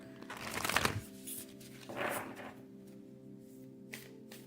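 A deck of tarot cards being shuffled close by, a riffling burst followed by two softer shuffles and a faint final flick in a quiet room.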